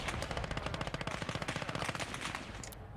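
Automatic gunfire from the video game Gates of Hell: Ostfront, a fast, steady machine-gun burst of sharp, evenly spaced shots, loud and close, with no talk over it.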